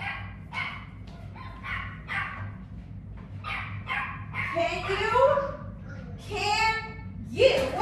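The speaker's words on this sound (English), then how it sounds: "Let me go get my dogs." Several dogs bark and yip in quick bursts, close by, with a few high whimpering cries mixed in.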